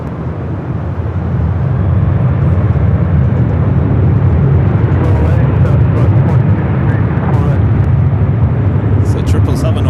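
Airliner taking off from runway 24 left at LAX, a loud, steady broadband jet roar that builds within the first second and then holds strong and continuous throughout.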